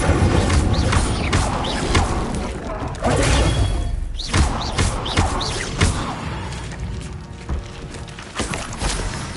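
Incendio fire spell cast in the video game Hogwarts Legacy, heard as a run of sharp bursts and thuds with crackling impacts amid game effects, loud and close, with a brief voice.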